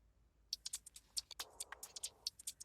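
Percussion loop from a Splice sample pack for a UK garage–style beat, with crisp bright hits in a bouncy, syncopated pattern and a brief noisy swell midway, playing alone without voices.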